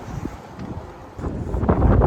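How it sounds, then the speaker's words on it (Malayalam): Strong gusty wind buffets the microphone beside a main road in the UK, a steady low roar swelling louder in the second half, with no voices. "പിന്നെ ഇന്ന് നല്ല കാറ്റുണ്ട്, അത്യാവശ്യം നല്ല കാറ്റുണ്ട്."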